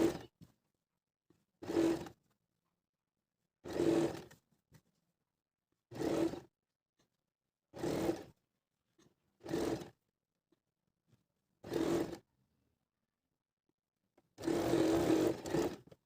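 Sewing machine stitching a folded kameez seam in short bursts, about eight buzzing runs of a second or so separated by pauses, the last run longer, close and moderately loud.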